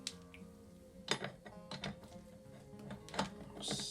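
Yamaha Fazer motorcycle chain being hooked onto the front sprocket, with close metallic clicks and clanks of links meshing over the teeth, a few sharper knocks among quieter rattling handling noise.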